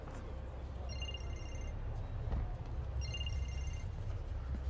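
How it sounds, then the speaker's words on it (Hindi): A telephone rings in a Hindi film scene, two short trilling bursts of bell-like ringing heard over steady low room noise, moderately faint with no talk during the rings. "फोन आ रहा है तुम्हारा।"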